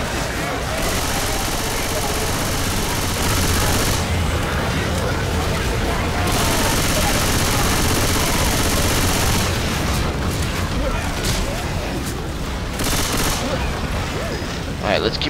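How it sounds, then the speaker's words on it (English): Machine gun fire in the video game Left 4 Dead 2, Dead Center hotel level: loud, dense sustained bursts of automatic gunfire with booms, rattling almost nonstop for fifteen seconds, with a player's voice talking in places. "Alright, machine gun time."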